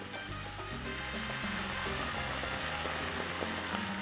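Mushrooms sizzle loudly in a pan as chicken broth is poured in, a dense, constant hiss with bubbling underneath that holds steady throughout, close up and with no voices.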